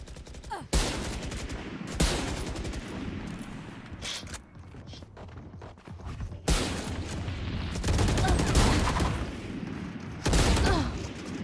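Gunfire crackles through a Valorant match, with loud, close bursts of rapid automatic shots arriving in several long volleys separated by short pauses.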